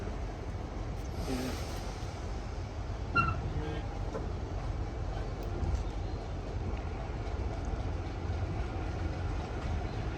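A Class 31 diesel train pulls away on the North Yorkshire Moors Railway, a low, steady engine rumble with a brief rattle or clank early on and a faint squeal, moderately quiet and without talk.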